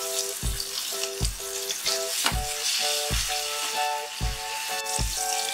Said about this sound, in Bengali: সাথে সাথে দিয়ে দিচ্ছি টমেটো আর পেঁয়াজ কুচি